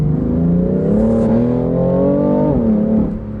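A BMW M3 CS's twin-turbocharged six-cylinder engine drops through the gears, its smooth revs rising, dipping and climbing again in a loud, close, steady drone with shifting pitch, no voices over it.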